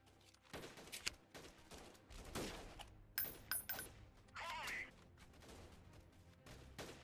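Gunfire in the Freeman: Guerrilla Warfare video game, a run of sharp shots and bursts at varying distance, some close and loud, spread across the clip with faint voices under it.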